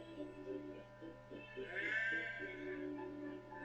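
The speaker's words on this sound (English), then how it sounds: "Some careless sheep had strayed onto the line." Sheep bleat near a railway line, a few wavering cries laid over a steady low hum. The bleats are fairly quiet and sound close.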